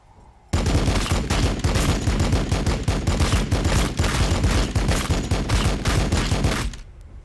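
Assault cannon firing in the Warhammer 40,000: Battlesector strategy game, a loud continuous rapid-fire burst of close, dense shots lasting several seconds before cutting off.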